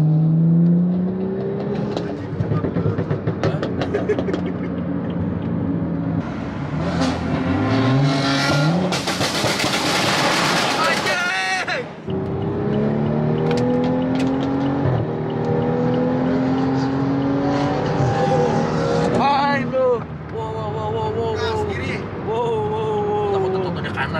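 A BMW M3 chases a BMW M4 on the road, with loud engine drone and rising, falling revs as the cars accelerate hard, heard from close up, with people talking over the engine noise.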